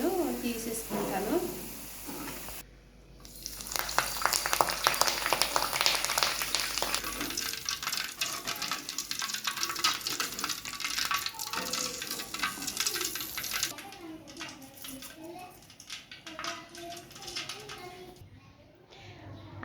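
Raw banana bajji frying in hot oil, a steady crackling sizzle throughout with stirring and scraping; someone talks over it at times.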